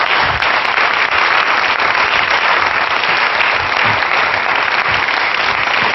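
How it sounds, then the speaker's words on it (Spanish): A studio audience claps loudly and continuously for children preparing healthy snacks on a consumer cooking programme, a thick, even roar of many hands lasting the full stretch. "Venga, un aplauso para todos los niños"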